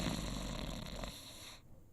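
A man snores into a live radio microphone in a studio, a steady rasping snore filling the first second before the sound drops away into quiet.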